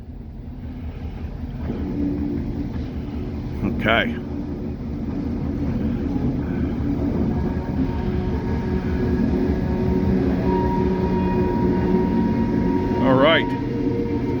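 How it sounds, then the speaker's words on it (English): A train approaches with a low, steady rumble that swells slightly over time, while a person speaks briefly nearby. "Second train of the day coming in."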